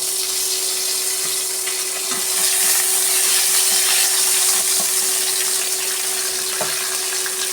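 Curry leaves crackle and sizzle in hot oil for a sardine fry, a steady close frying hiss with scattered small pops and no talking.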